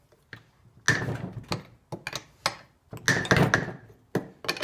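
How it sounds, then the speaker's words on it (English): Loosening the plastic pulley on a Dodge Neon power steering pump during replacement produces sharp creaks and cracking knocks, close and irregular, in clusters over a few seconds. "those creaking noises are totally normal. It's just the vibration going through the plastic pulley"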